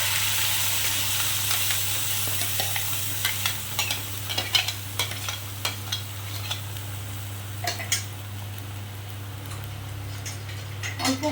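Ground spice paste with turmeric sizzles in hot oil in a kadai while a spoon scrapes and stirs it, with a steady frying hiss and intermittent metallic clinks close by.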